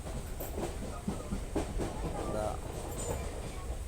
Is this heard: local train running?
yes